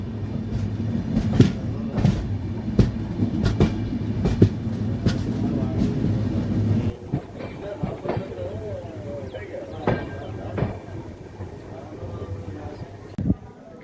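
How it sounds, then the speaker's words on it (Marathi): Rani Chennamma Express pulling into Londa Junction: a heavy, steady rolling rumble with sharp periodic clanks, easing into a lighter, sparser clatter halfway through, with faint voices in the background. "8:32 लोंढा जंक्शनवरती आपली राणी चिन्नम्मा एक्सप्रेस पोहोचलेली आहे"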